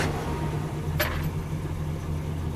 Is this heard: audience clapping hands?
no